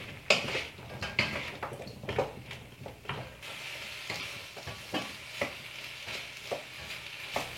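Vegetables and garlic being stirred in a pan with a splash of water, a spoon scraping and clinking against the metal in irregular strokes over a soft sizzle, close by and with no talking.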